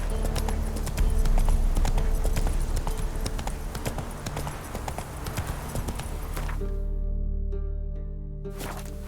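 Horse hooves gallop in The Witcher 3 with rapid, rhythmic clip-clop thuds, loud and close, before the pace drops to quieter steps near the end.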